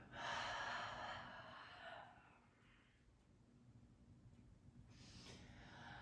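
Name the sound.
deep breathing during morning yoga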